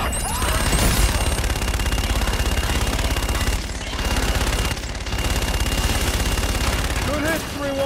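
Heavy sustained fire-support gunfire in the Call of Duty: Infinite Warfare campaign, a dense rapid barrage that runs loud and unbroken for several seconds, with brief dips and radio-style voices breaking in faintly over it.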